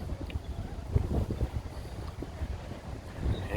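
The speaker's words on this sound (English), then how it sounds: "Here comes the wind." Wind gusting outdoors by a lake on a fishing trip, a low rumbling buffet of microphone wind noise that swells and fades steadily for a few seconds with no talking.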